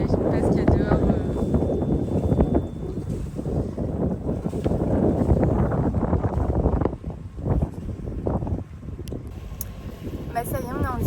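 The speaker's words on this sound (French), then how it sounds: "Vu le vent là qu'il y a déjà dans la baie, j'imagine pas ce qu'il y a dehors." Strong wind blows in a bay beside a sailboat, roaring and buffeting the microphone continuously, with people talking over the gusts.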